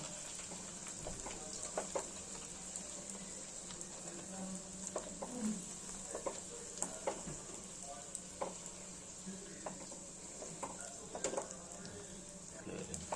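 Kachuris deep-frying one by one in hot oil for Bengali doi kachuri give a faint, steady sizzle with scattered small crackles and pops throughout.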